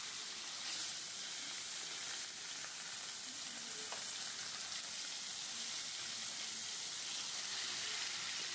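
Rohu fish for a curry frying in a generous amount of oil, giving a continuous, even, hissing sizzle that stays fairly soft and constant throughout.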